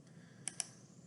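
Two quick, sharp computer mouse clicks in close succession, faint and isolated against a quiet background.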